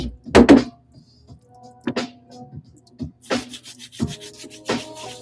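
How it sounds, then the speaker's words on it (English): A light bristle brush scrubs the fabric of a Vans sneaker during cleaning, giving a series of close, irregular scratchy strokes separated by short pauses. "the best thing you can do is just use a very light bristle brush"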